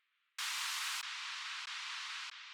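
Synthesized white noise in a music production session, a flat broadband hiss that switches on abruptly, then steps down in level in blocks before cutting off, with no voices.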